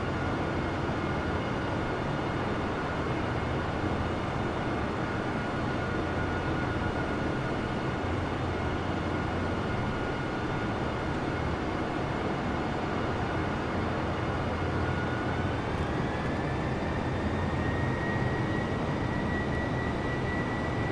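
An Airbus A320 (A20N) airliner in Microsoft Flight Simulator, flying from Phoenix to Salt Lake City, gives a steady, unbroken engine drone at constant loudness with a faint tonal whine that rises slightly near the end, with no talk.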